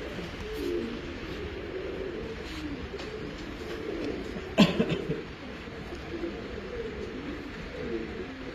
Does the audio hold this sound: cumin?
no